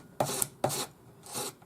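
Sanding a solder join on a twisted twin-shank ring, three short rasping strokes of abrasive on metal, close and fairly quiet with brief pauses between them.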